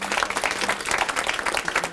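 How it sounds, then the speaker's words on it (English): A brief burst of dense clapping from an audience at a business talk on joint ventures, even and continuous throughout, with no speech. "Round of applause."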